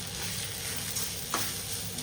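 Beaten eggs going into a pan of frying onion flowers for a Karnataka-style egg palya, a dense continuous sizzle up close with one brief clink.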